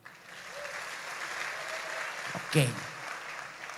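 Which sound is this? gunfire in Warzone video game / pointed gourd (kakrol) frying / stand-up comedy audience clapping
stand-up comedy audience clapping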